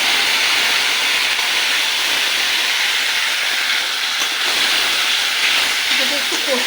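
Ginger, tomato and green chili paste sizzling with potatoes in a frying pan for a fish curry, a loud steady hiss close by that continues throughout, with a voice speaking near the end.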